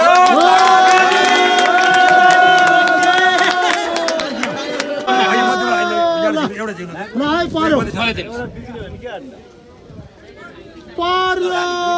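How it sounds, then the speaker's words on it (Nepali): A crowd at an outdoor lottery and variety programme in a park cheers and claps loudly, with excited voices and babble running throughout and a brief lull before the noise swells again. "बजाइदिनुहोस् ताली"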